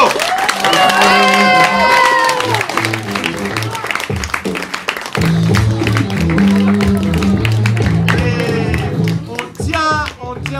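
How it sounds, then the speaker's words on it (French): A theatre audience applauds and cheers young improv performers aged 11 to 15 after a teen improv match: loud, dense clapping mixed with whoops and excited shouting voices throughout. "Et on peut encore les applaudir"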